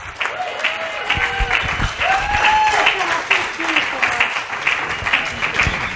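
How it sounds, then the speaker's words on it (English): Audience applause at a sponsorship talk fills the room with steady, dense clapping throughout, with cheers and voices mixed in beneath. "And give Joe a round of applause."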